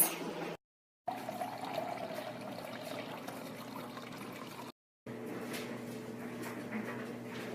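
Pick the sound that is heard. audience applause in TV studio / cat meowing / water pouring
water pouring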